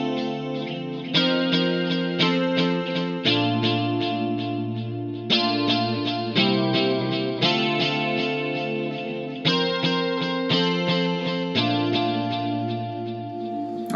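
Electric guitar through a Fractal FM9 with a precisely timed delay and no distortion, playing clean chorded phrases whose repeats echo in a steady rhythmic pattern, loud and alone.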